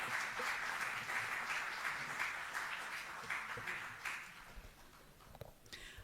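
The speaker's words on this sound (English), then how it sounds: "Please, a huge round of applause and welcome." An audience claps to welcome a keynote speaker at a social work capacity-building workshop, a full steady round of applause that thins out and trails into scattered claps after about five seconds.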